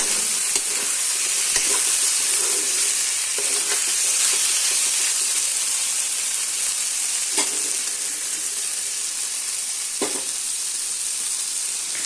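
Tomatoes fry in a mushroom curry in a hot pan, giving a loud, steady sizzle throughout, with occasional faint clinks and stirring scrapes under the continuous frying hiss.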